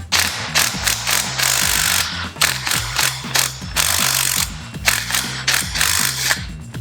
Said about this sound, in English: gonna need an impact to be able to snag this bolt off and this gear can pull off